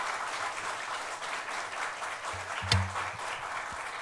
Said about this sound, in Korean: 우리 팬데믹 시대 함께 선교 현장에서 고진분투 하시다가 오신 분들이 박수로 환영합니다.